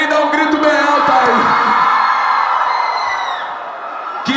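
A large crowd at a live concert shouts and cheers loudly in a sustained roar, with scattered whoops and yells rising over a voice on the sound system, fading slightly toward the end.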